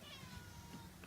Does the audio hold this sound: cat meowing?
yes